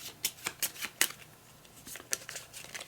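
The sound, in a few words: shuffling cards for a board game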